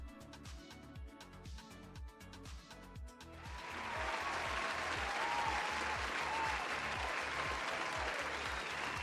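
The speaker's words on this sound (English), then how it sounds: "Let's give a big round of applause to Orange Ocean." Audience applause for a D&D homebrew presenter, starting over a looping background music beat and swelling into dense, steady clapping that fills the rest.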